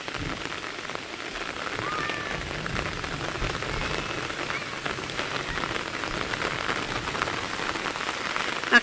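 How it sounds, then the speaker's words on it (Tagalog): Steady rain pattering on a surface, a dense continuous hiss of drops, fairly loud and close with no talking. "Naabutan kami ng ulan ni May."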